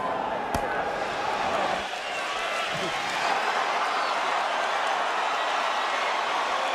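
A huge arena crowd awaiting a much-anticipated boxing fight, roaring in a thick, continuous wall of noise with a sharp slap near the start, and what may be a voice faintly mixed in.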